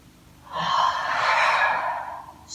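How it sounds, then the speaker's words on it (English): One deep, slow inhale during a yoga breathing exercise, a close, airy breath lasting about two seconds and heard alone. "Deep inhale, energizing, releasing up."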